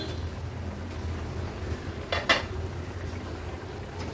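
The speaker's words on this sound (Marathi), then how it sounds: "झाकण काढून बघूया" A lid lifted off a cooking pot of cucumber and jaggery for a Malvani cucumber cake, one short metallic clink over a low steady background hum.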